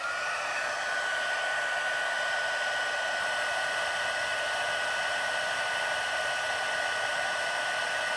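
A heat tool blows steadily as it melts white shimmer embossing powder on cardstock, a constant close whooshing hum with no talking over it.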